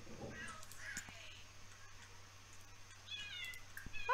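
Cats in The Sims 4 video game give several short, faint meows against a quiet background hum, with a brief murmur of speech.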